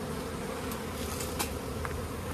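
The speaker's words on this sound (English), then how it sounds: "This is what you call catching a bee swarm from your beehive in your own backyard" A honey bee swarm at a backyard beehive makes a dense, continuous buzzing drone, close and steady with no talk over it.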